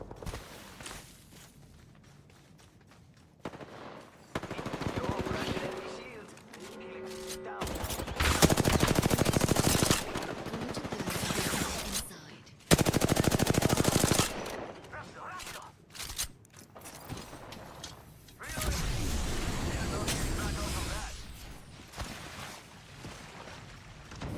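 Bursts of rapid automatic gunfire in a ranked battle royale video game, loud sustained volleys broken by short pauses and mechanical clatter, with some game voice audio mixed in.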